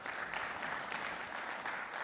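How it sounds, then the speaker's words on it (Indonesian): Applause from an audience at an Indonesian public hearing on prisons and narcotics, steady continuous clapping at moderate distance, fairly faint, with no speech over it. "Tepuk tangan dong."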